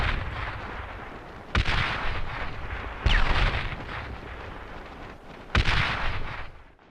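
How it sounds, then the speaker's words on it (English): German mortar fire in the World War II shooter Brothers in Arms: three heavy explosive impacts about two seconds apart, each a sharp crack followed by a long rumbling roar, over steady battlefield noise. "it was cut short by German mortar fire coming from the south side of town"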